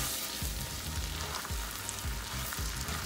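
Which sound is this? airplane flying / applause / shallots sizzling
shallots sizzling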